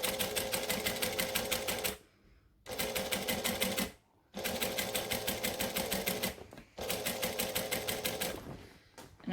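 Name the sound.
sewing machine back stitching a bag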